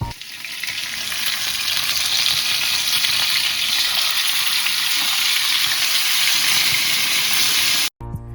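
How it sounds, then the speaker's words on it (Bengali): Fish fries in a hot pan, giving a loud, steady crackling sizzle that runs unbroken for about eight seconds before cutting off abruptly near the end. "মাছ ভাজা আর সাউন্ডেই অর্ধভোজন"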